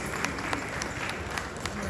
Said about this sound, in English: Shall we give her a round of applause?